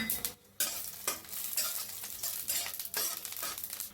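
Fennel seeds crackle and spit in hot mustard oil, close and loud, with a busy sputtering sizzle broken by sharp scraping stirs and brief gaps.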